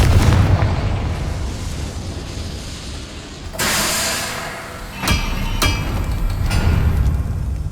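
A Confringo spell explosion in Hogwarts Legacy: a loud sustained blast with a burst near the middle, followed by a few sharp crackling pops over a dense rumbling background.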